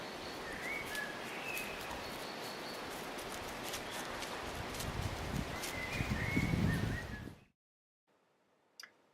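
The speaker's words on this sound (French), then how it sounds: "Entendez-vous le vent et les oiseaux?" Wind moves steadily through oak woods in the Dordogne, a broad rustling wash swelling toward the end before stopping abruptly, with faint scattered bird chirps over it and one brief high call after the quiet.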